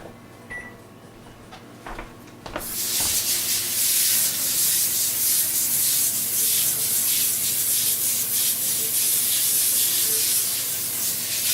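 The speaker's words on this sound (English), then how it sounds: "spray some cooking spray on a foiled" A few light clicks, then a loud, sustained hiss from an aerosol cooking spray sprayed onto a foil-lined baking sheet, continuing steadily until the end.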